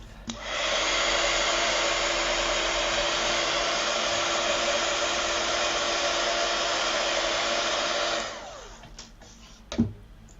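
A handheld heat tool blows steadily for about eight seconds to dry paper craft pieces, a loud close whooshing roar that then cuts off, followed by a faint clunk as it is set down.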